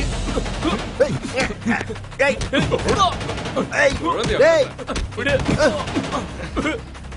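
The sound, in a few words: gunshots in a movie fight scene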